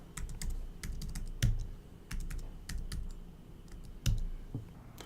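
Fingers tap a computer keyboard in quick irregular bursts of crisp clicks, with a few heavier key strikes, close and alone in a quiet room.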